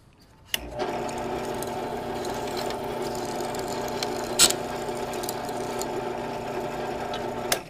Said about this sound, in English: homeschool version of a what would you call this? A milling machine. I guess I'll do it from the top.